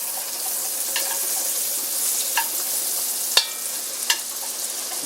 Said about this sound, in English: What I'm going to add in here now is butter. Good knob of butter.